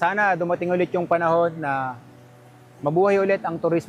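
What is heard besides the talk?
No everyday noises stand out.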